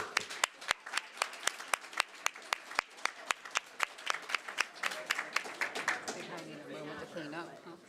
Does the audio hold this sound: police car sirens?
no